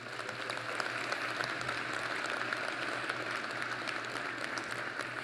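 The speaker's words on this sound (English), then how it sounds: "let's give them a big round of applause" Graduation audience applauding faculty and staff at a winter commencement ceremony, a steady, fairly distant wash of clapping that holds evenly throughout.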